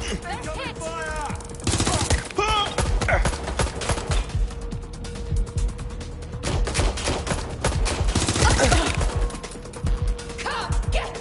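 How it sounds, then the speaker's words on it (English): Rapid gunfire bursts and scattered shots ring out in the video game Watch Dogs Legion, mixed with shouting voices and background game sounds, fairly loud and continuous. "I'm taking fire! Shit! I'm getting shot at here!"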